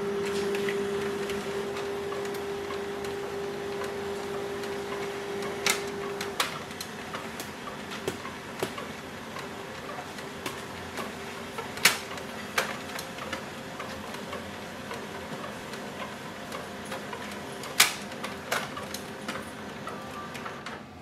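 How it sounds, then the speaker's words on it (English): An HP LaserJet Pro MFP-3103fdw all-in-one printer feeds several pages through its automatic document feeder while scanning, giving a steady mechanical whir with a brief tonal hum early on and scattered clicks and ticks throughout. "So I'm going to use ADF tray to scan multiple pages."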